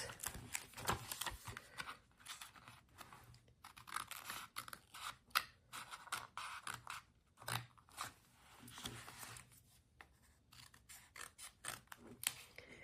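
Excess paper trimmed from a thick, vintage-style junk journal: faint, close crunching snips and scraping cuts in irregular clusters, with short pauses between passes and no talking.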